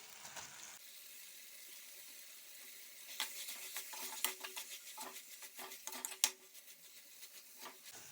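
Finely chopped capsicum hits a pan of cooked tomato for pav bhaji, bringing a steady soft sizzle with clinking stirs and scraping of a spoon against the pan, close and fairly quiet, with no talking.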